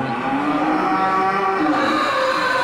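A breeding cow moos loudly and close by, one long drawn-out low bellow that fills the whole moment with no other sounds.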